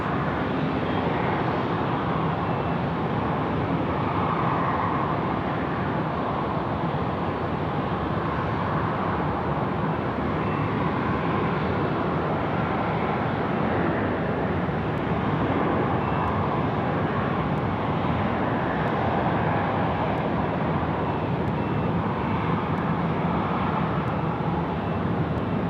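British Airways airliner taking off from runway 16 right at Sydney Airport, a steady, loud, broadband engine roar that holds for the whole stretch without easing, with no voices over it.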